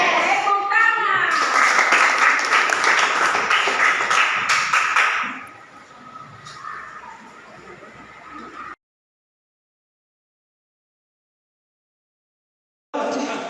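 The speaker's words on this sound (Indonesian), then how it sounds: "Tepuk tangan." A classroom group of teachers and pupils claps together in a dense, lively burst lasting a few seconds, then it thins into softer sounds before a sudden silence.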